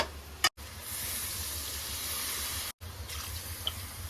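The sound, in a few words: pouring water into a pot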